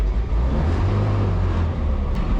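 A 1967 International Scout's engine drones loud and low from inside the moving vehicle, a steady rumble with road noise and no talk.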